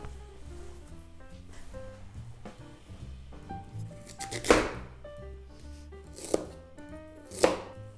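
A knife thinly slices radish on a cutting board, giving a few scattered soft taps and then three distinct sharp chops that land close and clear over faint background music.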